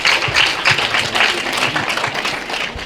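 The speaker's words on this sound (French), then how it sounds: "Applaudissez encore" Applause from an audience at an official ceremony launching national school-leaving exams, a lively mass of clapping with audible individual claps, continuous for a few seconds and fairly close.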